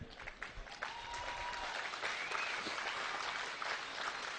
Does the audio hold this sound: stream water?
no